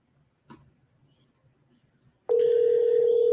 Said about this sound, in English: let's call back one more time. See if they pick up the phone.